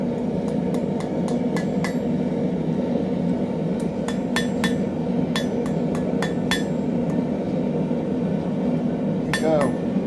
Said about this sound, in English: as I hammer this flat, it's going to force this part up a little bit